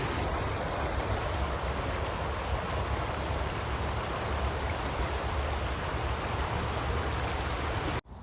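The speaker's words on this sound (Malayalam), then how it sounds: "പുഴയുടെയും വെള്ളച്ചാട്ടത്തിൻ്റെ ഒക്കെ സൗണ്ട് കേൾക്കായിരുന്നു" A river and waterfall in Canada pour steadily, giving a constant broadband rushing roar at moderate level that never lets up, with no voices.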